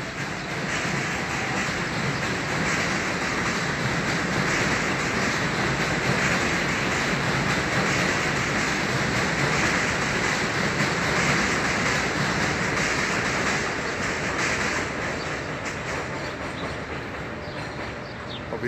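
A train rolls past at Yankee Stadium on a continuous, steady roar that holds for about nineteen seconds without a break, with the volume easing slightly toward the end and no voices heard.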